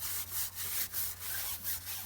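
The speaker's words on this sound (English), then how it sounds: "we're going to use the firm bristle brush to do the sidewalls" A firm bristle brush scrubs car wheel sidewalls coated in wheel cleaner, giving steady rhythmic back-and-forth strokes, close and fairly loud, with no talking.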